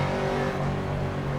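Several LMP3 prototype race cars in the rFactor racing game roar past during a Nürburgring warm-up session, a steady dense engine drone with high revving that stays loud and constant throughout.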